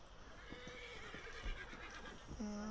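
In a PS4 video game, a horse gives a clear neigh alongside scattered hoof clops, heard at moderate volume over a faint ambient background.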